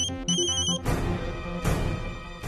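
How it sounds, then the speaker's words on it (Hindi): An electronic phone ringtone plays in short melodic bursts, repeating in a steady pattern, fairly loud and close with no talking. "ये मंजूषा इस वक्त मुझे क्यों फोन कर रही है?"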